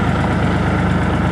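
A farm tractor's engine rumbles loud and close, a steady heavy low drone with no voices over it.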